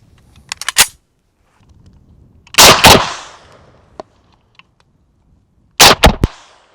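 Sharp reports from an SKS 7.62x39 semi-automatic rifle fired in quick bursts. Three loud clusters of rapid shots sound close by, separated by brief pauses.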